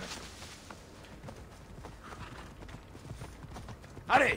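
Horse hooves in a video game, a steady quick clip-clop of trotting over ground, moderately faint, ending with a louder sharp burst, with no clear speech in the clip.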